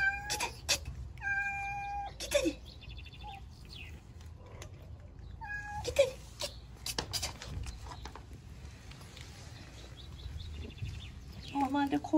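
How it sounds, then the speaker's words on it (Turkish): Stray cats meowing repeatedly outdoors, several short cries and wails at irregular intervals, moderately close, with faint background noise between calls. "Normalde kovmam kedicikleri ama şu zarı Garfield, şu sarı Garfield istemiyor onları burada, yabancı kedileri"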